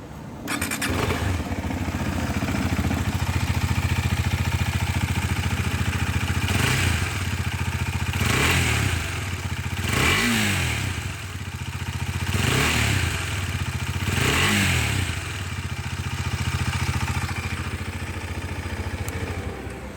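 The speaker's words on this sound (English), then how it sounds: "And let's listen to the exhaust note now." A Husqvarna Svartpilen 250 motorcycle engine idles steadily, nearby and loud, then revs up several times in quick bursts before settling back to idle.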